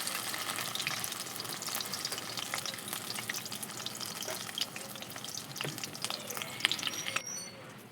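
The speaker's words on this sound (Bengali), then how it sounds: "আমি এভাবে করে সবগুলো বড়াই ভেজে নেব" Cabbage pakora fritters frying in oil over low heat, a constant bubbling sizzle with occasional clinks and scrapes of a utensil, moderately loud and unbroken until a quieter moment at the end, no talking.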